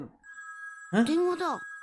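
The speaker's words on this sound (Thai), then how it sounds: "โทรศัพท์เหรอ" A telephone rings in the video game Dragon Ball Z: Kakarot, a steady electronic tone joined partway through by a warbling ring, loud and close, with a brief voice at the start.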